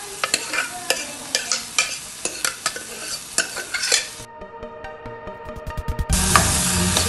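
Vegetables tipped into frying masala for pav bhaji and stirred, giving a run of loud scraping stirs over a steady sizzle, a short pause, then a louder burst of hissing frying as the pan heats up again.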